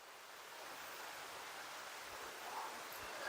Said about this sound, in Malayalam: കാരണം വെള്ളച്ചാട്ടത്തിന് സൗണ്ട് അങ്ങോട്ട് കേൾക്കുന്നത്